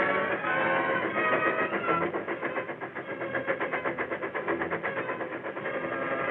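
A train rumbles past with a steady rhythmic clatter of wheels on track, fairly loud and continuous, with no voices, from a 1936 western film.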